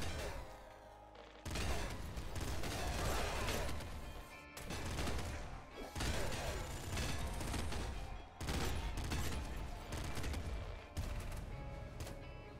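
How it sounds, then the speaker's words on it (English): Explosive Assault Rifle firing in the game Nuclear Throne Ultra Mod: loud, crunchy bursts of rapid explosive gunfire that repeat every second or two, with brief gaps between volleys. "The Explosive Assault Rifle's just nuts."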